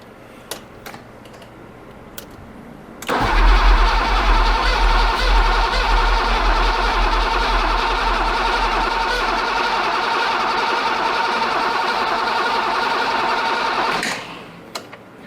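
A BMW 535i E28 Alpina engine cranks steadily for about eleven seconds with a loud, continuous starter whir and rhythmic chugging, trying to start but not catching before it stops; the cranking is heard alone, close by.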